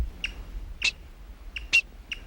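A black-backed woodpecker, probably a female, gives short sharp calls, about five notes spaced irregularly across two seconds, fairly clear against a quiet outdoor background; no talking.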